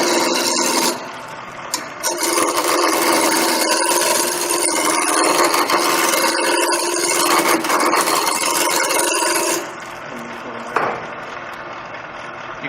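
A woodturning gouge rounds off a spinning wood blank on a lathe, making loud continuous rough scraping and rasping over the motor drone for about nine seconds before the cutting stops.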